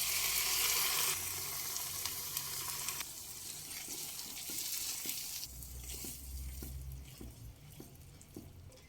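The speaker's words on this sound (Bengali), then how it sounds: "এবার আগে থেকে রেডি করে রাখা তো পেস্ট করে রাখা পালং শাকগুলো দিয়ে দেবে" Spinach paste hits a pan of frying spice masala, giving a loud, bright sizzle at first that settles into a softer, steady crackle, with a few light scrapes and taps of stirring.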